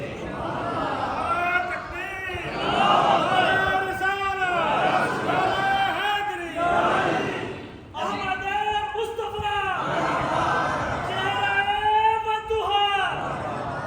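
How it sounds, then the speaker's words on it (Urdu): A crowd at an Islamic religious gathering chants slogans in rhythmic, tonal bursts, with many voices rising and falling together loudly and nearly continuously, briefly dipping before resuming. "ابھی آپ نعرے لگاتے ہوئے آئے"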